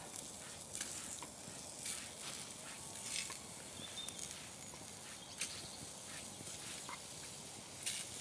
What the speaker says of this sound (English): I've just added some olive oil to the frying pan. And I'm just going to brown these sausages off.